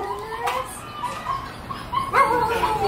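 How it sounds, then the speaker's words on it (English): A one-year-old dog recovering from surgery whimpering and yipping, high whiny cries with a short sharp bark near the end, fairly close. "This is the dog we want."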